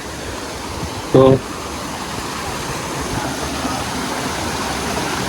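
The Sahasradhara waterfall, running high with lots of water, gives a loud, steady roar, broken once near the start by a short spoken word.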